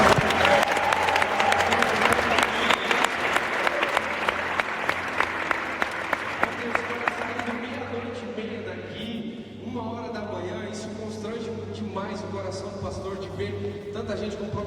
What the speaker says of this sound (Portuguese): Será que a gente pode aplaudir a Jesus por isso?